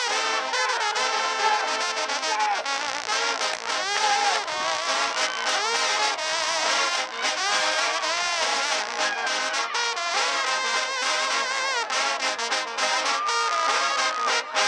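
A band plays while a trombone takes a solo, bright and continuous, with dense brass tones that keep going without pause.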